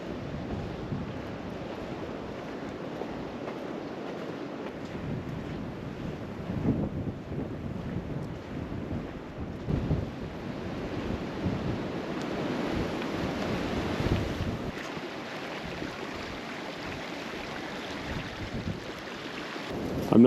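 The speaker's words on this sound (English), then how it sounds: "It is really windy down here though." Strong, gusty wind roars through a canyon in Coyote Gulch, buffeting the microphone continuously, with low rumbling surges rising and falling throughout; no voices.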